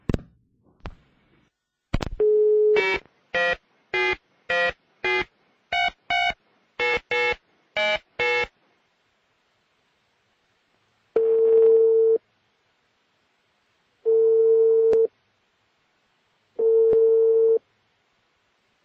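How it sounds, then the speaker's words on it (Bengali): Telephone call to a radio show caller: a burst of DTMF dialing tones in quick irregular sequence, then three evenly spaced busy-signal beeps, each about a second long, clear and alone with no talk. "The number is busy now."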